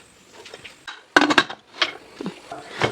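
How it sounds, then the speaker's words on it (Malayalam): A pressure cooker lid clanks into place and the metal cooker is set down on a gas stove, giving a cluster of sharp kitchen clatters in the middle between quieter handling sounds. "കുക്കറിന്റെ മൂടി ഇട്ടിട്ട് ഗ്യാസ് മേൽ വെച്ചിട്ട് 3 വിസിലിട്"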